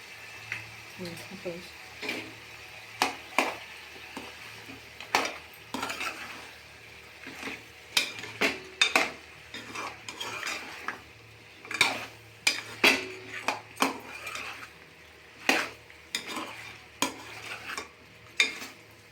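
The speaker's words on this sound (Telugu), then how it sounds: "ఇవన్నీ వేసుకొని కలుపుకుందాము." A spoon stirs turmeric and spices into goat head curry in a pan, making repeated close scrapes and clinks against the metal over a soft frying sizzle, with quiet talk in the background.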